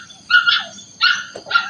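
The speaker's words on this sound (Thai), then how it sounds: "จะหมาน้อยไปเห่ากันตายทำไม" A small dog at a Thai temple gives three sharp, high barks in quick succession, close and loud, with short quiet gaps between them.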